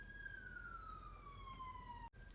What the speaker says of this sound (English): I live near a fire station now, so there's constantly ambulances